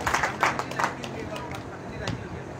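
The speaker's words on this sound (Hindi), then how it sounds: "बजाओ ताली" An audience at a Ram Katha religious gathering breaks into a short round of clapping, brisk and fairly close at first, then fading under a speaker's voice and crowd murmur.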